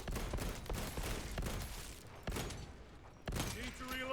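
Ranged gunfire in the Space Marine 2 video game, a rapid run of sharp shots and bursts that comes and goes over a dense battle din, fairly quiet overall.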